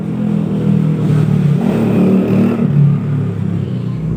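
A motorcycle engine revs steadily, a deep continuous rumble rising and falling slightly for several seconds, close and loud, with no talking.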